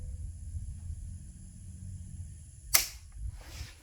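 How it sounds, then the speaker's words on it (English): A PSL rifle with cast bullets suffering a stovepipe malfunction at an outdoor range: one sharp, close metallic click with no shot, followed by a quieter rattle of the action against faint background hiss. "Click no bang, stovepipe."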